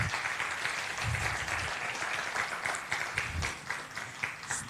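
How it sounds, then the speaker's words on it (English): Audience applause for the Namasha Choir at the opening of a symposium, a steady wash of many hands clapping that carries on throughout without a break. "Let's welcome Namasha Choir with a warm and big applause"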